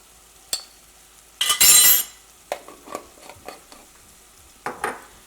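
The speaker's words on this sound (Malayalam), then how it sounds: "ഇനി മഞ്ഞൾപ്പൊടി ഇതിനകത്ത് കിടന്നിട്ട് നന്നായിട്ട് മുരിയണം" Turmeric powder fries in oil in a pan of mushroom masala, with a short burst of sizzling amid scattered scraping and clinking of a spoon against the pan.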